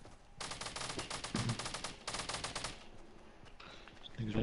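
Rapid bursts of automatic gunfire from the video game Fortnite rattle in two long volleys with a short gap between, followed by quieter scattered shots, fairly faint overall with no talking.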